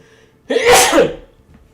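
A single loud sneeze bursts out close by after a brief quiet lead-in, then fades quickly.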